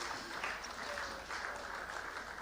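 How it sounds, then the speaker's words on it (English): An audience applauds at the BOICT Awards 2014 ceremony, a steady wash of clapping that holds at an even level throughout, with no voices. "Can we encourage him with a round of applause?"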